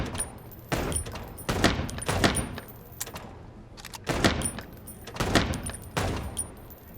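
Gunshots in the Chicken Police video game crack out in sharp bursts, several close, loud shots in uneven clusters with short pauses between them.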